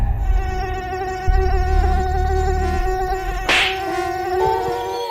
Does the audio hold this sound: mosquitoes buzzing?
yes